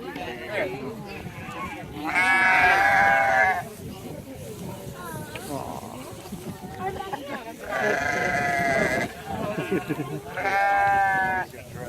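Sheep bleat in several long, wavering calls, close by, separated by stretches of quieter background noise and some distant murmuring.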